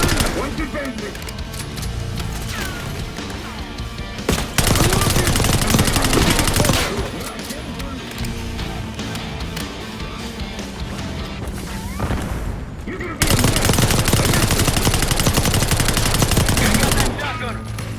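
Black Ops 6 firefight with loud, close gunshots, including shotgun blasts, crashing in dense bursts around shouting voices, with two especially intense stretches of continuous fire.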